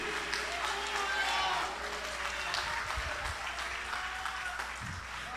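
Congregation applauding during a church sermon, a steady wash of clapping from many hands that fills the room, with a few voices and cheers mixed in.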